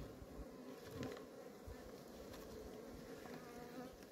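Honeybees buzz in a hive as a continuous, dense hum that fills the whole stretch at a low, even level, with a few faint knocks and clicks mixed in.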